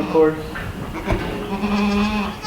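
A goat on a farm with pregnant does lets out a drawn-out bleat near the microphone, following a brief spoken remark, with other farm noises faintly in the background.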